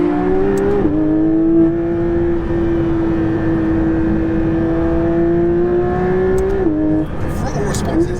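A Porsche 911 GT3 RS engine pulls hard under acceleration, a loud sustained wail climbing steadily in pitch for several seconds, broken by quick gear shifts near the start and end.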